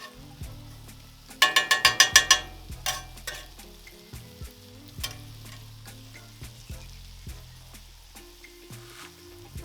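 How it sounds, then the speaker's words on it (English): Garlic frying in a hot pan, a bright burst of sizzling and crackling for about a second, then settling into a low, quieter sizzle with occasional soft clicks. "Garlic, you just want it to cook for about 30 seconds or 15 seconds"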